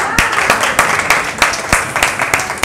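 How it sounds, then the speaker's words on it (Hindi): A crowd applauds steadily, many hands clapping at once with sharp irregular bursts, fairly loud and close, with no voices over it. "बहुत जोरदार ताली"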